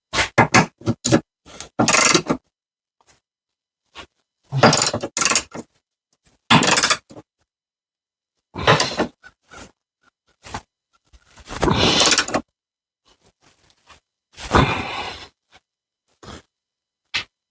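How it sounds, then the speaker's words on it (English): Preliminary tightening of the differential mount bolts on the rear subframe of a 2007-2017 Jeep Patriot or Compass, heard as close, sharp bursts of ratchet clicking and metal tool clatter separated by short silences. "I'm going to tighten up these differential bolts mounts here"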